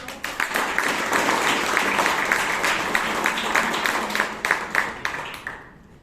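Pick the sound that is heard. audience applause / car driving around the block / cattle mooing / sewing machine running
audience applause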